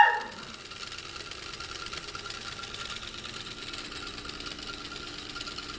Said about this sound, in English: And this DC motor cranks.